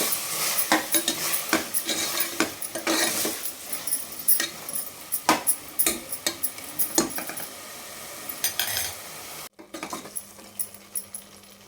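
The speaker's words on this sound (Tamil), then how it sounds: "ஸோ இப்போ எல்லாத்தையும் கலக்கி விடலாம்." Chili powder and masala for tomato rice are stirred in a hot pan, and the spoon scrapes and clanks against the metal in a quick, uneven rhythm over a soft sizzle. Near the end there is a short pause, then lighter taps.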